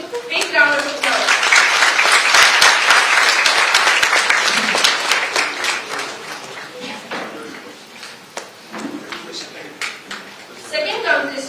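Audience applause for prize winners at a World Environment Day celebration and awards ceremony, dense sustained clapping from a large crowd that thins slightly toward the end before swelling again, with some voices mixed in.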